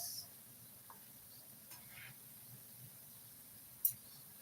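Quiet, steady sizzling of chin chin dough, flavoured with ginger and onion, frying in oil while being gently turned, a soft continuous crackle with a few faint clicks and one sharper tick.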